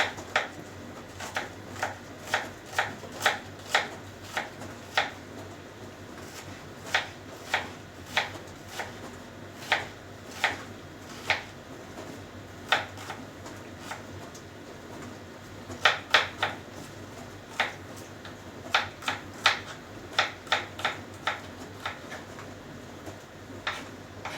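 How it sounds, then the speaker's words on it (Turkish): Two medium onions being chopped with a knife in a home kitchen: steady series of sharp close taps on a board, in quick bursts with short pauses, fairly soft, no voices. "iki orta boy soğan doğrayacağım şimdi içine"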